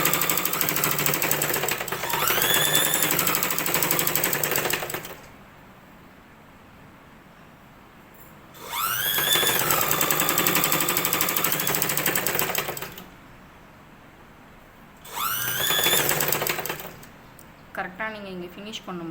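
An electric sewing machine stitches the back piece of a blouse in three long, loud runs of rapid whirring with quiet pauses between, and a voice talks faintly at the end.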